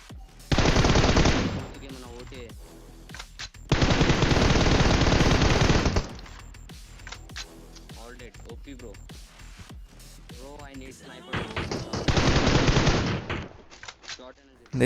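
Automatic gunfire from a PUBG Mobile battle, loud sustained bursts repeating in three long volleys with quieter stretches of scattered shots and game noise between them; a voice talks in the background.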